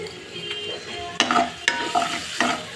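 Paneer seasoned with black pepper is stirred in a hot pan with a spatula over a steady sizzle of frying. About half a dozen sharp scraping strokes come at an irregular pace, close and clear, with no voices.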